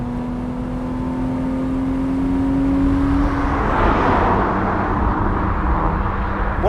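A BMW straight-six engine with a six-speed gearbox runs with a steady whine, then revs up into a loud, rushing roar as it accelerates.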